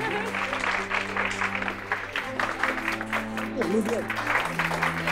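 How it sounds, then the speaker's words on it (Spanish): Audience at an award announcement applauds the winner with steady, fairly loud clapping over background music, while a voice speaks briefly over it. "¡Un aplauso fuerte, por favor!"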